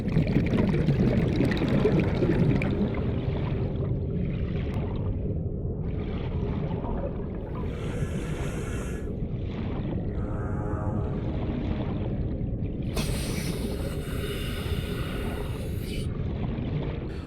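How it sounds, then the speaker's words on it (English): Underwater ambience from the video game Subnautica: a steady wash of shifting water with bubbling bursts and soft whooshing of swimming, plus occasional high squeaky tones and a bright fizzing surge near the end, continuous and close. "Bubbling water, water shifting all around you, the faintest sound of pushing water away as you swim"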